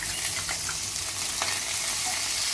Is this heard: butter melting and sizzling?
yes